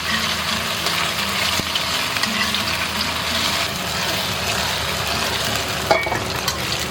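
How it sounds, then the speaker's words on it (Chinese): Tofu pan-fried until golden and just flipped with a spatula keeps up a steady, close sizzle and spatter of hot oil, unbroken for the whole stretch, with no voices. "我们就用铲子给它翻一个面。"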